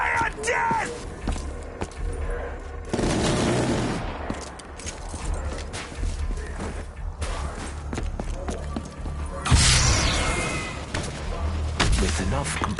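Rapid gunfire in Black Ops 3 Der Eisendrache, dense bursts of shots and thuds scattered through a noisy battle with a voice speaking over it.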